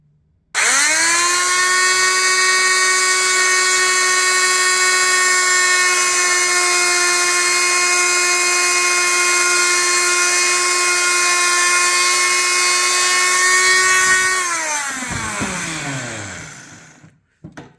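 A high-speed rotary power tool whines steadily for about fourteen seconds as it grinds away an old plastic tab on a Mercedes C-Class W204 xenon headlight housing, then spins down and stops; loud, close, no talking.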